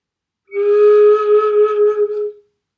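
One sustained note from a flute with a curved head joint, held for about two seconds, clear and breathy with a slight wavering, played close with no other sounds.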